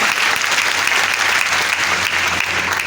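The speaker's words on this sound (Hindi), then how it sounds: "उनके फैमिली के लिए एक बार जबरदस्त ताली" Loud, sustained applause from an audience at an IMC event in Gorakhpur, a dense steady wash of many hands clapping at once with no pauses across the whole stretch.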